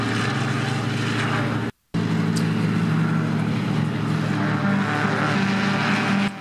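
Cars run laps on the Lurcy-Lévis race track during a track day, including a 911 RSR, an M3 E30, an MX5, a Clio 2 RS and Mégane models. Their engines drone steadily at a distance, with one brief cut of silence.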